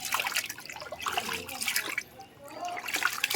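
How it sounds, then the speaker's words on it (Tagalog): Fish being rinsed and washed by hand in water until it runs clear, with steady splashing and sloshing up close at an outdoor fish market. "Inuugasan mo na yan hanggang sa luminaw yung tubig para malinis na malinis."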